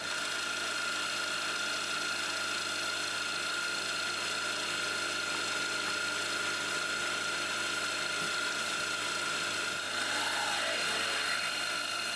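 A steady mechanical whine of a drill boring the small-end hole of a T-150 tractor engine connecting rod, running continuously with an even machine hum and a slight change in tone near the end.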